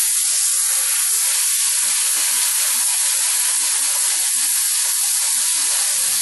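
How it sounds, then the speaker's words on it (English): Air compressor nozzle blowing rust off a blacksmith vise: a loud, continuous, close broadband hiss of rushing air that holds steady from start to finish. "what I got here is a close-up of the vise and my air compressor nozzle here"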